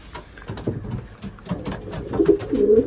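Racing pigeons coo softly in a loft with low, throaty murmurs that rise and fall continuously, growing fuller toward the end amid faint shuffling.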